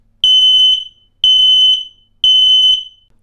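An X-Sense SX01 smoke alarm sounds its test signal: three loud, piercing high-pitched beeps in an even rhythm, each about half a second, close-up with no talking.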